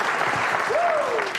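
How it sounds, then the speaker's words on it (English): A film crew on a movie set clapping after the final shot, a brief continuous wash of close applause with a faint gliding whistle-like tone partway through. "Oh, they're clapping."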